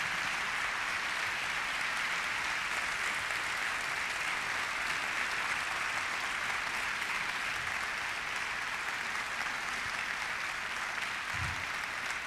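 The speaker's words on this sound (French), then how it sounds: "Et donc je vous demande d'applaudir très fort Bernard Werber" Sustained, dense applause from an audience filling an auditorium for a conference, steady and even throughout with no voices rising above it.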